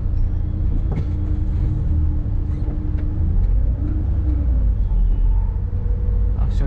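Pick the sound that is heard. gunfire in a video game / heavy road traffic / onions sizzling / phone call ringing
heavy road traffic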